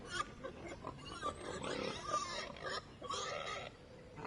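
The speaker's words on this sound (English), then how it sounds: "I just heard pig sounds. There's pigs over here." Pigs oink and grunt in a Thomas & Friends video game, a run of short nasal snorts and squeals at moderate level with no talking.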